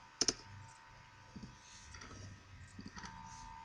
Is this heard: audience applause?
no